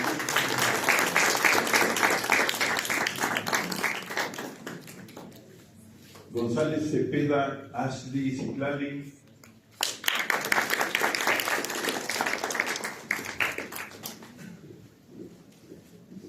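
An audience at a nutrition and emotional health congress gives two strong rounds of applause for names being called, and an announcer's voice is heard between them.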